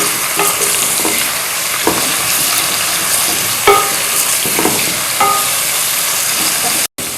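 Fenugreek and fennel seeds roasting in a pan, a continuous dry sizzle broken by repeated scraping stirs of the spoon, close and fairly loud, with a brief dropout near the end.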